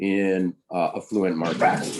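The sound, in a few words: dogs barking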